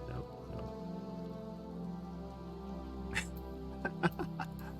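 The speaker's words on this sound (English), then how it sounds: "We're gonna talk in the rain." Steady rainfall in the Final Fantasy XIV game world, a faint, even patter with a few soft droplet ticks near the end and no voices over it.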